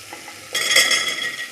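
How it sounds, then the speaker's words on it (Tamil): Shallots and tomatoes sautéing in oil for sambar, a quiet lull broken by a sudden bright sizzling burst as they are stirred, continuing for about a second. "பின்னர் தக்காளி சேர்த்து நன்கு வதக்கவும்."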